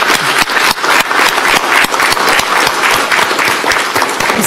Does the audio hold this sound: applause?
yes